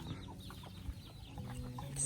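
Chickens on a Thai home farm give soft, scattered clucks, faint and close against quiet rural background noise with no talking.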